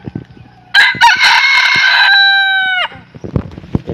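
Female decoy fowl used for hunting crows loudly and close by, one sustained call of about two seconds amid scattered clucks and rustling before and after.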